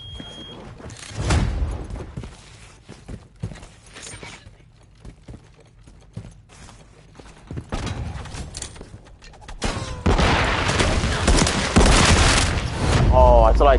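Semi-automatic gunfire in the video game Call of Duty MW3 comes as scattered loud single shots and thuds between quieter stretches, with talk mixed in.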